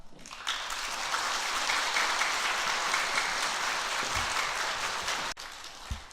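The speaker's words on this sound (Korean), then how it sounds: "우리 목사님 나오실 때 박수로 맞이하겠습니다" A church congregation applauds as the senior pastor comes forward to preach at a Sunday worship service, sustained dense clapping that fills the hall evenly before stopping abruptly, with a couple of faint thumps near the end.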